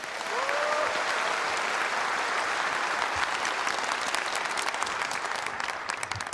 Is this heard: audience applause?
yes